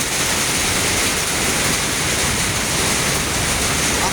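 Sudden heavy rain pouring down on a roof in a Philippine street, a loud, dense, unbroken hiss and roar that fills the whole stretch, with no voices over it.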